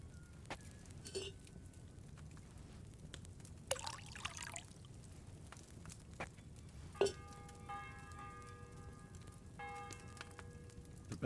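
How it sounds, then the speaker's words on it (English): A church bell tolls in the medieval game Kingdom Come: Deliverance II, its ringing partials entering faintly partway through and lingering over quiet trickling and pouring sounds earlier on. "The bell's ringing for Hans the 5th time."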